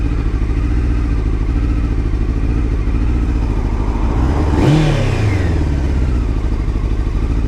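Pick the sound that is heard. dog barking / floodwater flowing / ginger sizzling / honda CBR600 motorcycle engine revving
honda CBR600 motorcycle engine revving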